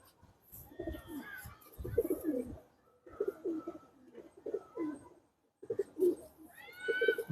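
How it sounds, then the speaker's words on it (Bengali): A pigeon in a loft coos in repeated soft, throaty phrases close by, several rounded burbling calls separated by brief pauses, with a faint higher chirp near the end. "খুব সুন্দর একটা কবুতর।"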